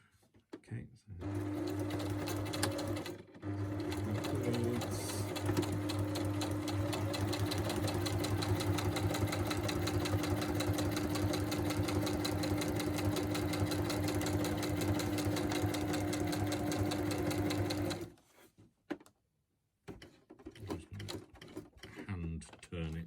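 A sewing machine stitches through a notebook in a long, steady, rapid mechanical run, nearby and loud, then stops for brief pauses and short bursts, with a person talking.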